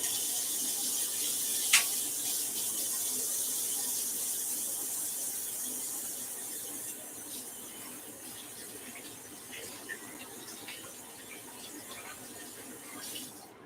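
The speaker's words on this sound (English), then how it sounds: "Let me wash my hands." Hands being washed under a running tap: a steady, moderate hiss of flowing water with splashing, one brief squeak early on and a few small clicks.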